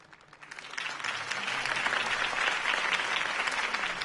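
Crowd applause for a political campaign speech in Telltale's Batman video game, a dense, steady wash of clapping that swells in over the first second and holds loud and continuous to the end, with no voices over it.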